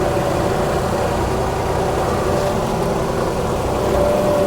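Tractor engine running under load while plowing slush, a steady loud rumbling drone close by with little change, no voices over it.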